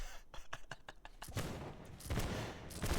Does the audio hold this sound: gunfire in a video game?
yes